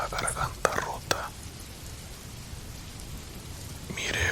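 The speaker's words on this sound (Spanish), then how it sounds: "el sonido de las gotas de lluvia y los truenos" Rain falls at night during a thunderstorm, a soft steady patter with a few sharp drop hits near the start and a brief louder swell at the end.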